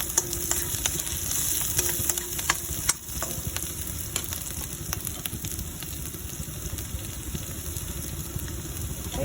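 Tilapia frying in hot cooking oil in a pan, a steady loud sizzle with crackling pops and spatters throughout, close by.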